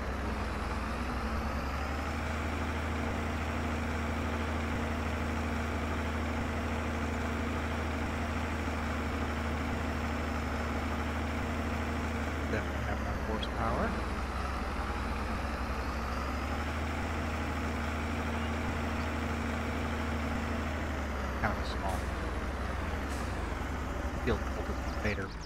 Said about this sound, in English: We'll use the Deutz tractor for that.